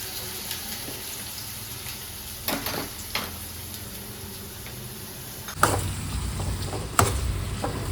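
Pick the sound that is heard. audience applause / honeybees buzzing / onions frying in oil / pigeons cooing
onions frying in oil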